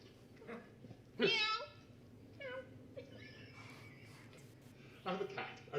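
A person with Tourette syndrome voices a few short, high meow-like cries imitating a cat, close and separated by quieter vocal sounds.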